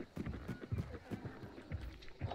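A horse's hooves clop in an irregular trotting rhythm in the video game Hunt: Showdown, fairly close, with a faint whinny-like tone mixed in.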